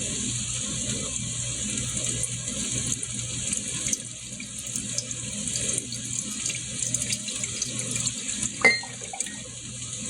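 Water runs steadily from a kitchen tap into a cup holding soy sauce, a continuous close hiss and splash lasting several seconds with a brief clink near the end.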